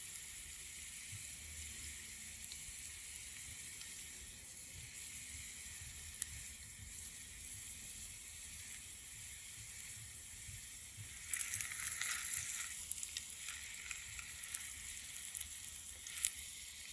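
Food sizzling steadily in a pan on a Trangia Mini spirit stove burning at full flame with no simmer ring and a windshield, a soft continuous hiss that grows a little louder and brighter toward the end, with no talk.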